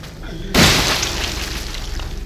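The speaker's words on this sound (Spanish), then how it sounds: "Dos balazos en la jeta y no se mueren" A gunshot in the video game Resident Evil 7 bursts out as one sharp, loud blast. Its heavy, echoing tail decays under continuing game noise.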